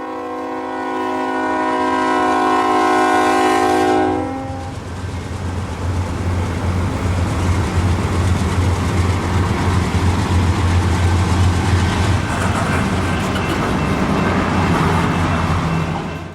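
A loud train horn blares with stacked tones for about four seconds, then a heavy train, steam locomotive 4501, rumbles past steadily with rattling cars, close and continuous.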